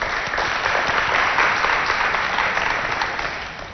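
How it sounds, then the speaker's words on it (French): A crowd at a cultural centre event claps steadily, a dense, even wash of applause that holds for several seconds and then tapers slightly toward the end. "Applaudissez pour vous-même."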